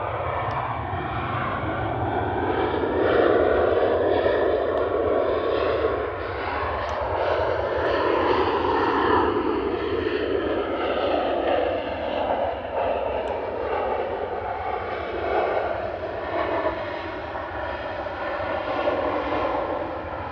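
An airliner landing at Manchester Airport with thrust reversers deployed gives a loud, steady broadband roar that rises and swells over twenty seconds, dense with engine rumble and no voices.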